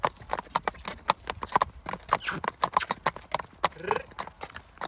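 Newly shod horses' hooves clip-clopping in a quick, steady rhythm on a hard surface, close by, with a brief whinny-like sound partway through and a voice faintly underneath.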